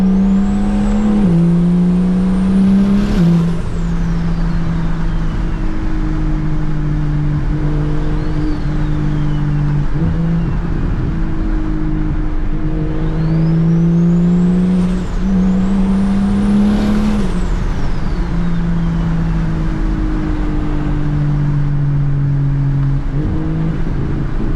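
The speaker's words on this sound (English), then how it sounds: "I'm gonna give you guys these turbo noises though." Single-turbo BMW E92 335i heard from inside the cabin, loud engine drone rising and falling with acceleration, with repeated turbo spool whistles climbing in pitch and sharp blow-off hisses between gear changes.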